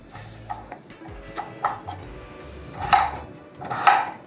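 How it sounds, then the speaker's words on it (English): A knife roughly chopping Okinawan sweet potato into half-inch to one-inch pieces on a board, with irregular thuds and taps that build to two louder clusters of cuts near the end. "Okay, so rough chopping, like half inch, 1 inch pieces."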